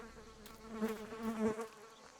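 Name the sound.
fly buzzing in video game Martha Is Dead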